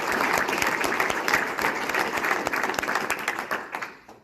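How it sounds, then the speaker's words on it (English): At a fiber network ribbon cutting in Braham, Minnesota, a crowd gives a round of applause, bright, dense clapping with some distinct close claps, sustained and then tapering off near the end. "So give them a round of applause,"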